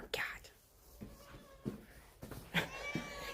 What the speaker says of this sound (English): It's a farm cat.